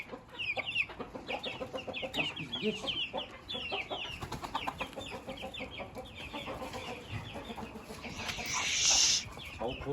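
Hens clucking in a farmyard, a dense run of close, repeated rhythmic clucks from several birds, with a louder burst of squawking near the end.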